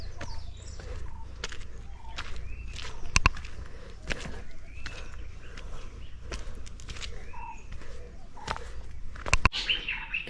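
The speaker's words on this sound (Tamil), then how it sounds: "குருவிங்க கத்துறது." Small birds chirp and tweet in short, scattered bursts along a forest trail on Parvatamalai, some calls close and sharp, others further off, over a low background hum with a few soft footsteps.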